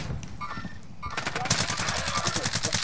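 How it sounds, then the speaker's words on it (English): Rapid automatic gunfire in a shooter video game, a dense string of loud close bursts erupting after a short lull and continuing steadily to the end. "I'm getting shot from behind"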